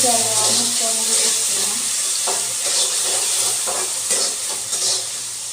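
Potatoes and chapati being cooked in a home kitchen: stirring clinks and soft scraping over a light sizzle, with a low steady hum running beneath and faint occasional taps.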